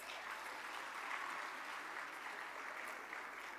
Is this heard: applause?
yes